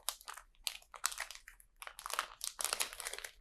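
Crisp crinkling of a LEGO sticker sheet being handled up close, in irregular bursts of rustle and crackle with short pauses, with no talk.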